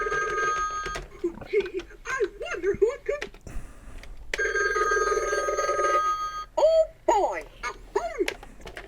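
Mickey Mouse limited-edition animated telephone ringing with a repeated electronic chirp, mixed with a cartoon voice and a faint motor whir; the phone is close and moderately loud.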